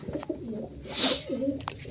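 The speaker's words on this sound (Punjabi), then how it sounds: "ਉਹਦੇ ਨਾਲ ਕਬੂਤਰ ਹੈਗਾ ਇਹ ਚੀਨਾ" A Cheena pigeon gives a short, close coo with a rising and falling throaty roll, over faint background rustling in the loft.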